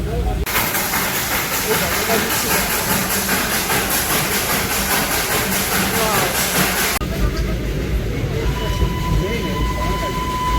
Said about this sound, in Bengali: টয় ট্রেনের এই পু ছিকছিক আওয়াজটার মধ্যে বেশ